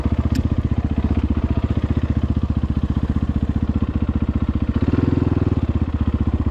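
A motorcycle engine idling after ECU tuning, a steady close loud putter with even rapid pulses that swell briefly near the end, then settle back to idle.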